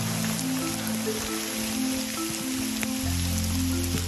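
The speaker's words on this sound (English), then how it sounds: "It's really raining." Steady rain pours down in a canyon on Kauai, Hawaii, a dense continuous patter on surfaces, close and even, with a low engine-like hum underneath.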